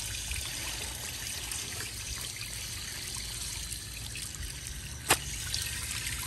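Water trickles steadily in an old fountain as its pump runs, a faint continuous dribble with one brief sharp click partway through.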